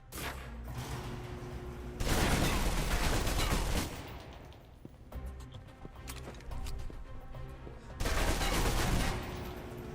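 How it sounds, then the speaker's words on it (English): Submachine gun fire in a video game comes in loud, rapid automatic bursts separated by short lulls, with quieter stretches of scattered shots between the heavy volleys. "If you're trapped in close quarters with multiple opponents, the SMGs can help clear the room quickly"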